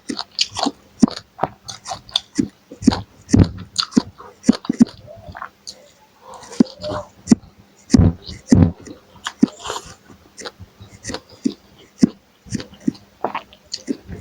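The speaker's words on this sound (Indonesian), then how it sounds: "yang sekarang suapan pertama ada tumis kangkung plus nasi" Close, crisp chewing and crunching of stir-fried water spinach with rice, repeated bites in an irregular rhythm, with a few soft murmured words between mouthfuls.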